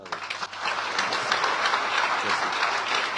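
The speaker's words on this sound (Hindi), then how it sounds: "आइए हम पास्टर जी को हम तालियों के साथ" A congregation at a revival convention gives the pastor loud, sustained applause, with many hands clapping in a thick, continuous wash that barely dips across the whole stretch.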